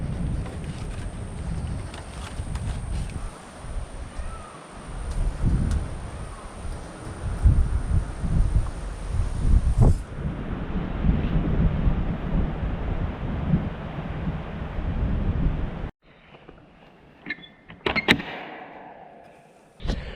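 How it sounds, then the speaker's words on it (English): Strong wind gusts through a raised-bed garden, a loud, continuous buffeting roar across the microphone that swells and eases, then drops to a quieter, patchier blow near the end. "It's been extremely windy today."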